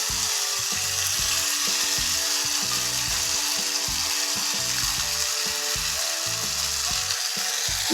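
Chili and ginger pastes fry in hot oil for a vegetarian soybean muithya, giving a steady, loud sizzling hiss throughout, with a rhythmic mechanical rattling running underneath the whole time.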